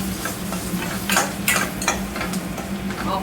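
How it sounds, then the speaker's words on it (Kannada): Tempering for drumstick sambar sizzles steadily in a pan, with soft stirring scrapes and occasional louder crackling spikes over the close, continuous frying hiss. "ಸಣ್ಣಕ್ಕೆ ಇದು ಫ್ರೈ ಆಗಲಿ."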